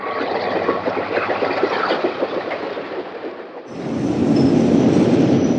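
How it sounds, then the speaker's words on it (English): A pair of GP7 diesel locomotives hauling a caboose eastbound at Ream on the Santa Fe line, a steady rumbling roar with rail clatter that drops briefly and then swells louder and closer. "A pair of GP7s head east at Ream with a caboose hop."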